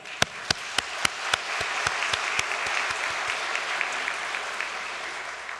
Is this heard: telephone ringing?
no